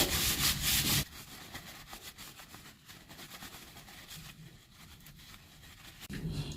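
Cloth wiping the heating coil part of a steam machine during a coil replacement: steady close rubbing strokes, louder at the start and again near the end, with no talking.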